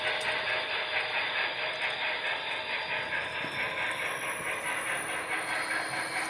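Model train pulled by a Union Pacific FEF-3 steam locomotive rounding a curve, a continuous close rolling rumble with a hissing, whirring drone and faint periodic wheel clicks, steady and unbroken with no talk.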